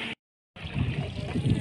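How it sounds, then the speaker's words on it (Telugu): A boat on the Ganga river during the Maha Kumbh Mela, in cold water, gives a steady rushing, splashing wash of water and motion noise that follows a brief dropout to silence near the start. "ఇప్పుడైతే నేను బోటింగ్ చేస్తున్నా."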